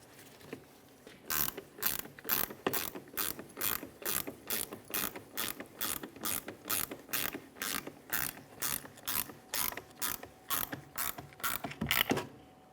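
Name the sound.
16 mm ratchet wrench tightening shock absorber mounting nut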